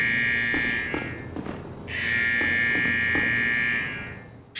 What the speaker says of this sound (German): Scheiß Alarm, ey.